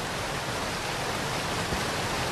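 A waterfall in the video game Stones of Harlath gives a constant, dense rushing roar. The broadband wash of falling water is steady, loud and unbroken, with no other sounds.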